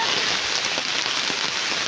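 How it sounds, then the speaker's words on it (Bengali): Steady rain falls continuously at a house in Tripura, a dense, even hiss of drops striking surfaces with faint patters, no voices. "দেখুন কি সুন্দর বৃষ্টি এসছে"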